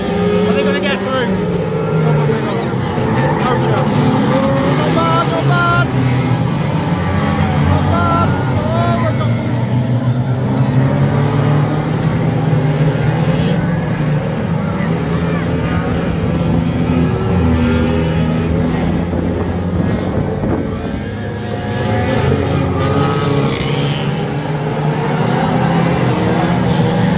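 Stock cars racing round a track corner at a Warton Stock Car Club meeting, engines roaring loudly and continuously for the whole stretch, with crowd babble and talk layered over the racing noise.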